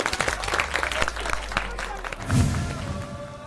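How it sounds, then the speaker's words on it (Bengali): An audience bursts into loud applause at a university stage event, a dense broadband patter of many hands clapping that swells briefly near the end. "ওদের দুজনের জন্য একটা জোরে হাততালি।"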